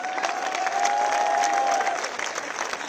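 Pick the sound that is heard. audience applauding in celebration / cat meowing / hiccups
audience applauding in celebration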